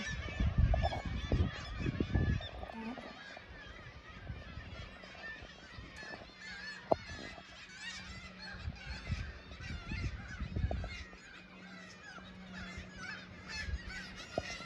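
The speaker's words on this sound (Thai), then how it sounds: "เกาะนี้จะเป็นพวกนกหลายๆ ชนิดนานาพันธุ์นะพี่น้องอยู่" Seabirds call on Røst island, Norway: a dense, continuous colony chorus of honking, goose-like cries overlapping close and far, with louder bursts near the start and around the middle, no talk.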